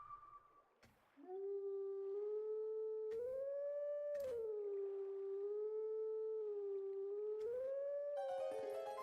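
A wolf howls at a stone in The Legend of Zelda: Twilight Princess, a long wavering tonal song rising and falling in pitch over several sustained notes, loud and close with no talk.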